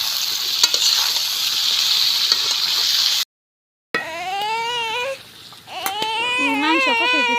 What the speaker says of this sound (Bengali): মাংস দিলাম, মাংস একটু নাড়াচাড়া দিয়ে নিই।